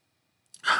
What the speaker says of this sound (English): Never sneezed on a live stream before.